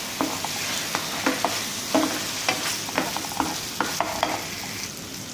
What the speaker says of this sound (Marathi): हिरवे वाटण, आलं, लसूण, मिरची, कोथिंबीर पेस्ट ही सुद्धा चांगली परतून घ्यायची आपल्याला.